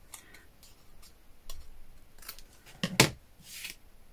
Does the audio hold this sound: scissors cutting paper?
yes